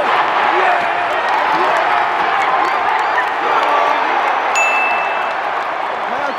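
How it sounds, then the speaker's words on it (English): A huge stadium crowd of about 69,000 at a St Kilda versus Essendon AFL football match roars and cheers continuously, a dense sustained wall of voices with scattered whoops and claps, loud throughout. "That's a pretty good crowd."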